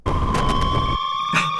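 A kitchen stove timer sounds a steady electronic beep tone, loud and close, holding for over a second before fading, with a brief second pulse near the end.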